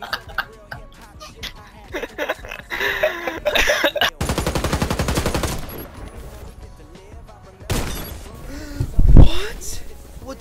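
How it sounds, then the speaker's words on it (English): Gunfire in the online shooter Warface, with bursts of rapid shots mixed with other game sounds and a sharp loud blast near the end, while a player talks over much of the action. "Like, I shoot him, but he doesn't die."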